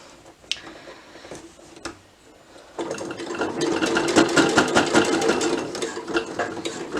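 A home sewing machine runs steadily while stitching pleats along the long side of a fabric panel, with the needle left down. A couple of sharp clicks come first, then the machine whirs continuously and close up.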